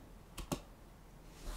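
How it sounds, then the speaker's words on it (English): A few faint, sparse clicks of computer keyboard keys being typed, two close together then one more after a pause, in a quiet room. "Now you want to type in setup."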